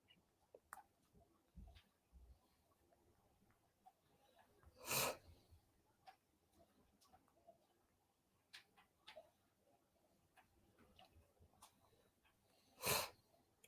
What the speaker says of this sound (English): Sniffling again.